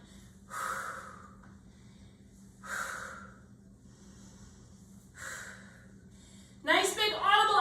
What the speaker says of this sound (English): Nice big audible exhales.